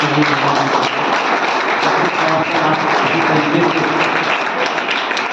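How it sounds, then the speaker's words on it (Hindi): Sustained audience clapping at a civil defence meeting, a continuous patter of many hands that holds steady and fairly loud from start to finish, with faint voices mixed underneath. "एक बार जोरदार तालियां"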